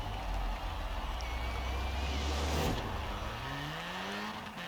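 A rally car in the Forza racing game revs hard as it launches off the line, a loud engine roar with rising gear sweeps and a sharp swell midway; a voice speaks briefly over it.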